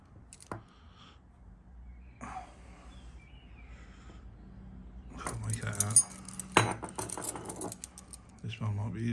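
Fire brigade keys from a survey kit jangle, faint scattered clinks at first, then a louder run of metallic rattling and jingling toward the end, close to the microphone.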